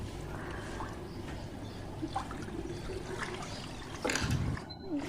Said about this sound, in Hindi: मैंने नल से पानी ले लिया बाल्टी में